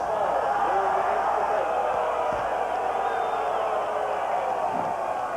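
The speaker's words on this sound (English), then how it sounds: "Kind of a Bronx cheer from the La Crosse fans below us" A crowd of La Crosse football fans at a 1989 national championship game gives a sustained jeering Bronx cheer, a steady wash of noisy crowd voices lasting throughout with a commentator talking over it.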